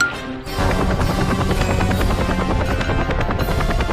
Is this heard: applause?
no